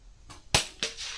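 .22 rifle shots at an NRL22 rimfire shooting match, two sharp close cracks about a quarter second apart, each with a short bright tail, and no talk over them.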